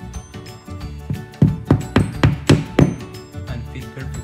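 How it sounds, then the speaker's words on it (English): Hammer blows drive a part into place while an irrigation control system is being installed, about seven sharp, close, evenly spaced knocks ringing over a low background hum, with no talking. "I'm just gonna hammer this"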